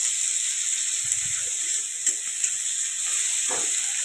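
Tomatoes fry in a pan with cabbage and potato, giving a steady, even hiss of sizzling oil throughout with a few soft stirring knocks.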